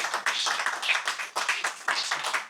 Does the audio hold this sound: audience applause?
yes